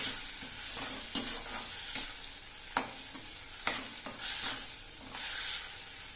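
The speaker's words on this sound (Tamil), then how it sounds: "தக்காளி கலவையும் நல்லா சேர்த்துட்டேங்க இதை நல்லா வதக்கிடணும்" A blended tomato mixture for an oyster mushroom fry sautés in a pan with a continuous sizzle, broken by repeated scraping stirs of a spatula at irregular intervals, close and clear.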